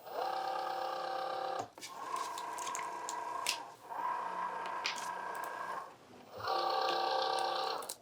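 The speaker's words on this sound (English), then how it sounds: "Then I'm going to put this into the machine." A Cricut cutting machine takes in a cardstock mat with a steady mechanical whir in three sustained bursts, separated by brief pauses, close and fairly loud with no talk.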